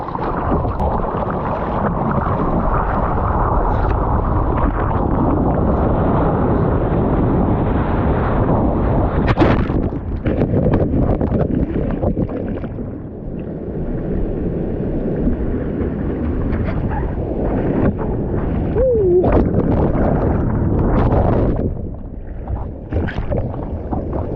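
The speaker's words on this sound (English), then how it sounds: "Definitely a wave coming." An ocean wave breaks and rushes past during a morning surf off an Australian beach, a loud sustained roar of churning water and wind buffeting the microphone, easing slightly midway then surging again.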